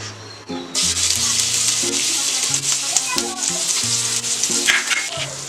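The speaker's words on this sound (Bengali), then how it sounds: "এখন এর মধ্যে আমরা পেঁয়াজটা ঢেলে দিব।" Chopped onions fry in hot oil in a pan for khichuri with a loud, continuous close-up sizzle and occasional stirring scrapes, while a low steady tone runs underneath.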